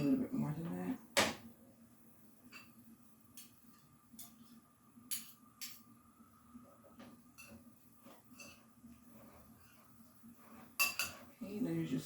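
A spoon clinks and scrapes against a bowl while sandwich filling is mixed with regular mayonnaise, giving a few sharp knocks and scattered light taps under a steady low hum, with a person talking intermittently.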